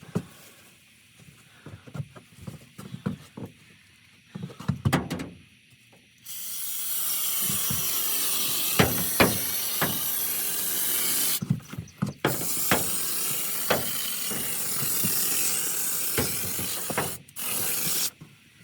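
A steady, loud hiss of a spray foam gun runs in long bursts, broken by short pauses and sharp clicks of the trigger mechanism.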